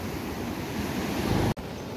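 Floodwater from a swollen river rushes over a bridge in heavy monsoon rain, a loud continuous roar and wash of water with wind buffeting the microphone, broken by a brief dropout near the end.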